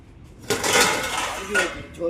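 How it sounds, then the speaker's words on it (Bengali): A metal wok is pulled out from among other pots, giving a sudden clattering clank followed by ringing metallic scrapes and a second clink, close by in a kitchen. "যাই কড়াইটা নিয়ে আসি"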